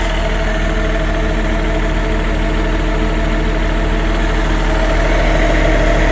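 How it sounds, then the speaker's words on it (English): A 2012 Kawasaki 70Z5 wheel loader sits idling, its engine giving a constant, loud, low rumble with an even vibrating hum and no change in speed throughout. "2012 Kawasaki 70Z5."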